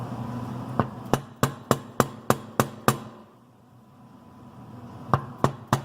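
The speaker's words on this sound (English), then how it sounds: "got it lined up into place and hammer it in" A hammer strikes a part into place during a tank replacement: eight sharp, evenly spaced blows, a short pause, then three more, loud and close with no talk.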